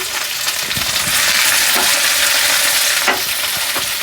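Tomato chutney with mint frying and being stirred in a pan: a loud, continuous sizzle close by, broken by occasional scraping strokes of the spoon, with no talking.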